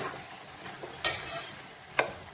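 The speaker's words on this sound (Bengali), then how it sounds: "ভালো করে মিশিয়ে নিচ্ছি" Bottle gourd and moong dal curry with ginger, tomato and green chilli is stirred in a pan: a soft sizzle underneath two sharp scrapes of a spoon against the pan, close and quiet, with no talking.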